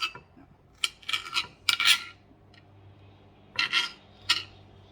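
A knife slicing tomatoes on a textured cutting board, producing short raspy scraping strokes in small clusters separated by quiet pauses, close and fairly soft.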